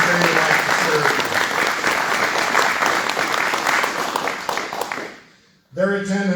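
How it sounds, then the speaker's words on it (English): Sustained applause from a community audience at a state board of education candidate forum, dense steady clapping that fades out before a voice begins speaking. "Please give our candidates a round of applause"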